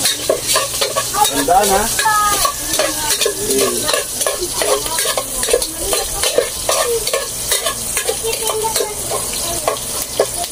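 Garlic and onion sautéing in a pan for sopas, a loud continuous sizzle broken by scraping stirs, with a brief spoken line partway through.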